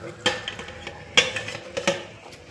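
Metal clanks and clatters of a pressure cooker lid being set and closed over a pot of greens sambar, a few close, sharp knocks and scrapes in quick succession.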